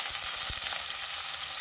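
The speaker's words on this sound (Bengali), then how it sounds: "এবার দিয়ে দিচ্ছি কুচিয়ে রাখা পেঁয়াজ।" Chopped onion hits hot oil seasoned with cardamom, cinnamon, cloves and a torn bay leaf, giving a brief, close, bright sizzle with soft stirring thumps underneath.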